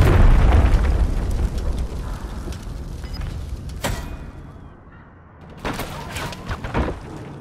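Cruise missile strike in Call of Duty multiplayer, a heavy rumbling blast that opens loud and close, decays into low roaring debris, then dips before scattered crackling impacts return.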